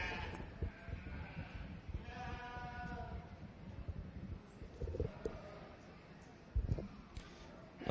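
Sheep bleat at a county fair sheep show, with a clear wavering call near the middle and more bleats scattered over a steady background of crowd noise and murmuring voices.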